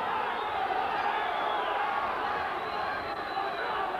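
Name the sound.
crowd ovation at a 1983 boxing final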